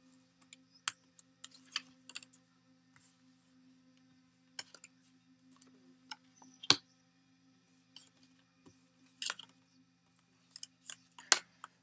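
Tarot cards shuffled by hand, giving soft, scattered clicks and brief riffling bursts at irregular intervals, quiet and close, with no talking.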